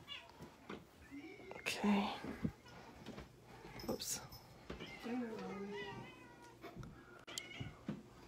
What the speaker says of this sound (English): you might hear some cats meowing because they know as soon as that door shuts